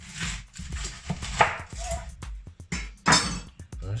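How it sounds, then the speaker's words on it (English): A kitchen knife cuts an onion in half on a board, making several sharp chopping thunks and taps close to the listener, with a voice speaking over and between the cuts. "So let's just start by cutting your onion in half."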